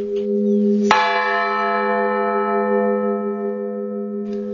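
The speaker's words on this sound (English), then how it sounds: "The sound of the bells ringing has already become a part of everyday life." A single loud bell strike from a village bell tower in Siberia rings out and hums with a long sustained tone, over a lower steady bell hum, with another faint strike near the end.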